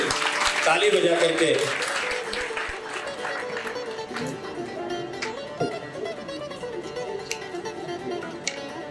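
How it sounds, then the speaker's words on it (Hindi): An audience at an international award ceremony claps hands for several seconds, strongest at the start and gradually thinning out, with a voice speaking over the applause. "आप लोग ताली बजा करके"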